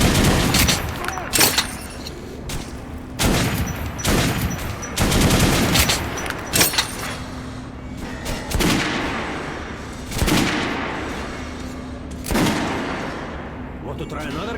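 A squad fires guns at a shooting range in the video game Metro Redux: loud, close bursts of overlapping gunfire and heavy booming volleys repeat every second or two, with voices between the shots.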